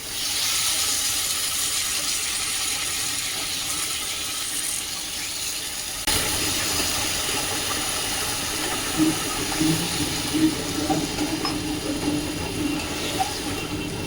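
Ridge gourd pieces drop into hot spiced oil with a sudden onset of a steady, broad sizzling hiss that continues at moderate loudness, with faint crackles over it.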